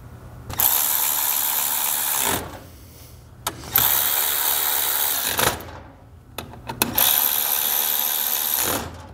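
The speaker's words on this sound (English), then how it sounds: "Reinstall the bolts the way they came out" Impact wrench or ratchet driving bolts back into the clutch of a Polaris RZR XP Turbo during a Dynojet clutch kit install, three loud sustained buzzing bursts separated by short pauses, close up with no talking.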